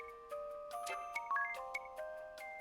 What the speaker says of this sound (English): Wake up bell.